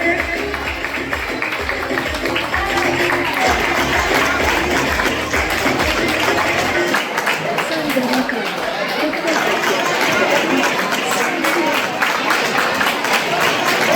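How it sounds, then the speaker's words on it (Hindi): At a student felicitation ceremony at an academy, a crowd claps as a child is honoured on stage. The loud, continuous applause blends with crowd chatter and voices, and people keep talking throughout. "जोरदार तालियों से इनका स्वागत करेंगे"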